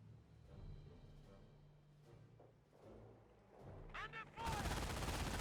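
Gunfire in the World War II strategy game Company of Heroes, a dense burst of rapid shots erupting loudly near the end after quieter battlefield rumble and scattered distant reports.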